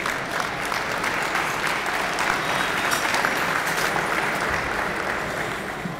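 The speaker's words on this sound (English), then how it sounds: "A round of applause for everyone who's here from in-state and out-of-state." A gala audience claps in a sustained, even wash of applause that stays loud and unbroken from start to finish, with a faint murmur of crowd noise beneath it.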